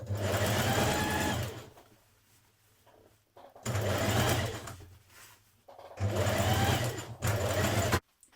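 Stay-stitching seams to the lining of a Simplicity 1195 occasion dress, a sewing machine hums loudly in three separate runs, each lasting a couple of seconds, broken by quiet pauses.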